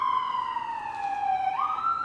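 An emergency vehicle siren sounds on Park Avenue, a steady wailing tone that holds level and then sweeps upward, fairly loud and continuous with light street noise beneath.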